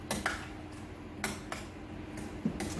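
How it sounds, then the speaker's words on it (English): A utensil scraping and knocking in a pan while mixing chickpea pie filling, with several sharp clinks spaced irregularly over a soft steady background. "And then we give this a good old mix."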